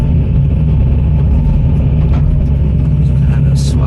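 An excavator engine runs at a loadout site while the machine tracks forward, a loud, steady, close rumble with scattered clanks and a short hiss near the end.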